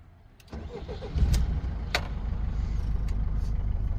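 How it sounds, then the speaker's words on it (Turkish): A Mercedes-Benz Vito 112 CDI diesel van starts with a brief cranking whir, then catches into a steady low idle rumble that holds, close by and without talk. "Aracı çalıştıracağız. Çalıştırmadan olmaz."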